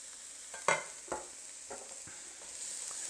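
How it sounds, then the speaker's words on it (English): Diced sweet pepper and jalapeno sizzle in a hot pan, a steady quiet frying hiss broken by a few sharp stirring scrapes and clacks. "we're just going to throw them in the pan for a few seconds to sweat it"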